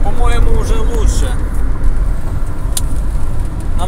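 A turbocharged car is floored in fifth gear, its engine droning loud and steady from inside the cabin while someone talks over it.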